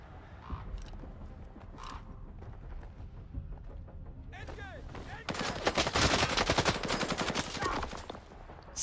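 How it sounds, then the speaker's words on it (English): Gunfire in the STALKER 2 shooter, a burst of rapid shots erupting midway and sustained for a few seconds over ambient game sound, with brief quieter noises before it. "let's blast our way through."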